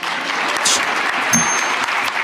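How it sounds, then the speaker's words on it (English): A short burst of steady audience applause during a political speech, dense clapping from a large room with a brief higher tone near the middle. "Applause line."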